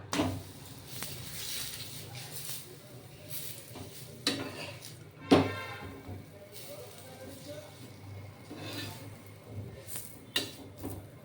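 Soft sizzle of a triangular paratha frying in a pan, punctuated by clinks and scrapes of a utensil, with a person talking intermittently nearby.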